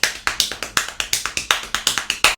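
Hands tap a quick, even rhythm on the knees, about fourteen crisp slaps with accents alternating between the right and left hands, close and dry with no voices.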